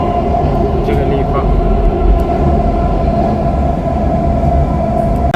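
A Dubai Metro train running along its line, a steady loud rumble and hum from inside the carriage, continuous throughout with faint brief squeaks.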